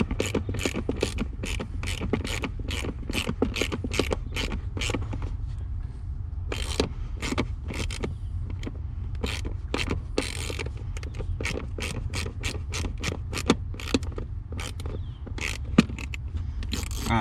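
A hand ratchet clicks in fast, rhythmic bursts as a 10 mm bolt is backed out near the firewall of an R32 Nissan Skyline GT-R, close up with short pauses between runs of pawl clicks.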